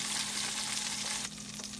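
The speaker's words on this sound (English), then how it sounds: "the red peppers, jalapenos, and the garlic is roasting away" Red peppers, jalapenos and garlic roasting for hummus, giving a steady, close sizzle and crackle of frying with no voices.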